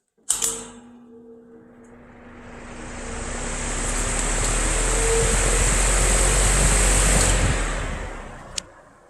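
A Patton 20 inch high velocity fan runs steadily on medium speed, giving a broad, even whoosh of moving air with a faint low motor hum. It swells up after a short click and holds alone, with no talk.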